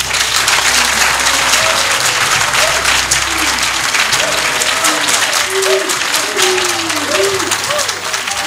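Sustained crowd applause for president Tidjane Thiam at a signing ceremony in Côte d'Ivoire, dense steady clapping throughout with faint voices and tonal calls mixed in.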